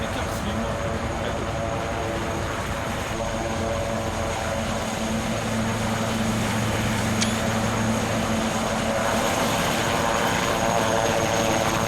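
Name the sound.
helicopter in ARMA 3 video game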